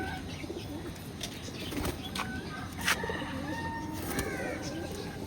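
Pet pigeons kept for sale cooing softly, with quick bursts of flapping wings nearby over a busy background hum.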